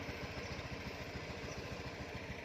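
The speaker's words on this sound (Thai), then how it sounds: "เครื่องยนต์ ทำงานนะครับ เสียงเงียบนุ่มนะครับ" A small Honda Moove scooter engine runs close by at a steady, even idle with a soft, rapid pulsing rhythm.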